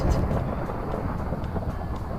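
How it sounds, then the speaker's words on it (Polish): A thunder strike in Minecraft Bed Wars, a loud low rumble at the start that rolls on as a heavy sustained roar, alone with no talking. "Ale piorun walnął."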